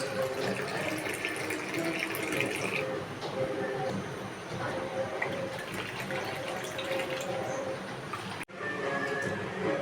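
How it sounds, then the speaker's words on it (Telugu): Boiled milk is poured into filter coffee decoction, a continuous close splashing and trickling pour of liquid lasting several seconds, with a brief break near the end before it resumes. "ఆ మిల్క్ని ఈ కాఫీ డికాషన్లో పోయాలి"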